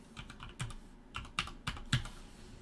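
Typing on a computer keyboard, a few close, quiet key clicks in an irregular rhythm.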